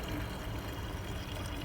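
Fuel and water draining from the diesel fuel filter of a 1999 Freightliner Century Class truck, a steady close trickle of liquid that runs unbroken and fairly quiet, with no talking.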